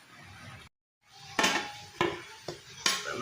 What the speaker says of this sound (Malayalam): ഒന്ന് പ്ലേറ്റിലൊന്ന് സെർവ് ചെയ്തെടുക്കാം.